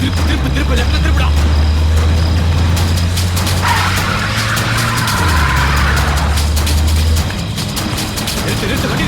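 A car drives with its engine droning steadily and tires skidding, loud and close, while people shout urgently over it.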